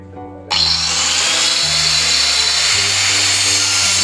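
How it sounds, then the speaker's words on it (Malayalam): A power tool cuts through the marked section of a junction riser, starting abruptly into a loud, steady high-pitched whine with shifting motor tones, close and continuous. "ഇനി ആ മാർക്ക് ചെയ്ത ഭാഗം നമുക്ക് കട്ട് ചെയ്തെടുക്കാം."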